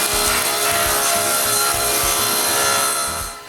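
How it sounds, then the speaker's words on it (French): Plywood tops for a miter saw cabinet being cut with a power saw, a steady, loud whining cut that runs continuously and fades slightly at the end, with no talking. "Ensuite, je peux couper les dessus."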